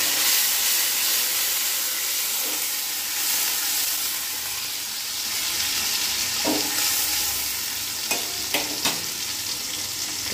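Chopped onion hitting very hot oil in a wok for a Bengali ridge gourd dish, a steady loud sizzle and hiss throughout with a few brief clinks of stirring near the end, no one talking.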